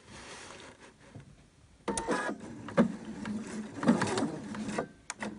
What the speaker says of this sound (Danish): Og så syr jeg op over her